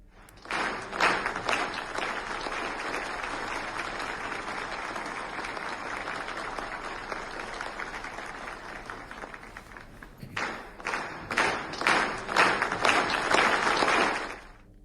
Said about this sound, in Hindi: सांसदों ने पीएम मोदी को स्टैंडिंग ओवेशन भी दिया और करीब 1 मिनट तक खड़े होकर ताली बजाते रहे